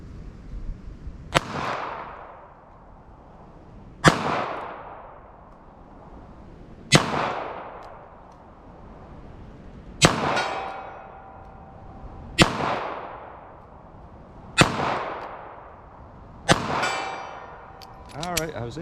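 Seven sharp gunshots from a handgun firing .32 S&W Long rounds ring out at slow, even intervals, each followed by a short metallic ring from the target.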